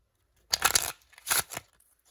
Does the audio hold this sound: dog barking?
no